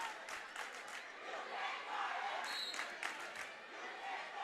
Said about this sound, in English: The crowd seems to be yelling,